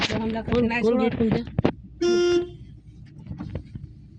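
A vehicle horn gives one sustained, loud honk of about half a second, sounding right after excited voices chatter nearby, then fading to quieter background talk and road noise.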